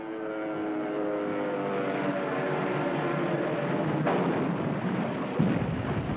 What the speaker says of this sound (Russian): самолет Девятаева был подбит.